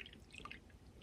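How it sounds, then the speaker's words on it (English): Water poured into resin molds for walking stick toppers, with small drips and a soft trickle at close range, faint and quiet with no talking. "I am going to fill this first one up with water"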